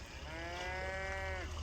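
A cow on a snowy New York farm gives one long, drawn-out moo, clear and fairly close over a steady rumbling background.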